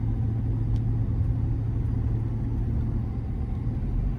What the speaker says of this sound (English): exhaust brake was working real hard for us for a minute there